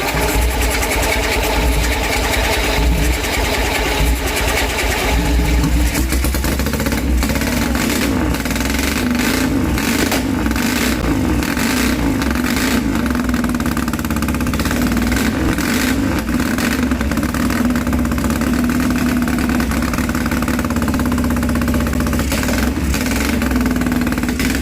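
A replica AJS V-twin world speed record motorcycle engine runs loud and close, a steady rough throbbing with revving swells throughout.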